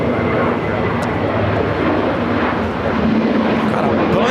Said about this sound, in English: This is Virgin Atlantic Flight 8 taking off to London Heathrow on the A350